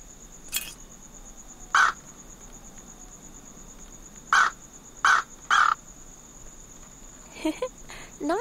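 Four loud, clipped caws from a bird on a roof in the game Anna's Quest, spaced irregularly over a steady insect-like drone with a high whine.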